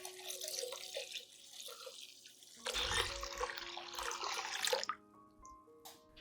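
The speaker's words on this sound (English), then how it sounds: "Add 1 liter of clean room temperature water to dilute the solution." Clean room-temperature water pours steadily into a cinnamon solution, a splashy, close trickle that swells into a heavier gush midway before tapering to light drips.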